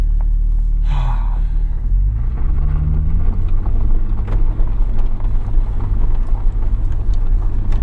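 A 2021 BMW M3 Competition sends out a deep, steady engine rumble from inside the cabin while driving, loud and continuous, with wind and road noise mixed in and a brief rising note near the start.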